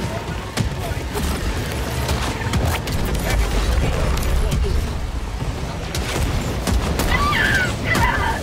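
A laser cannon fires in a video game amid loud, dense booming and crackling blasts, with other game noise layered throughout and a few higher chirping tones near the end.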